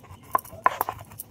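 Cardamom seeds being lightly cracked by hand in a home kitchen: a few sharp, small clicks and cracks in quick succession, close and fairly faint against a quiet background.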